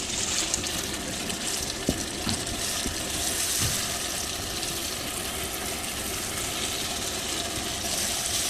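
Karry pakora masala sizzles and hisses in a pan after a splash of water, a continuous steady frying noise with a few faint clinks, close and even throughout.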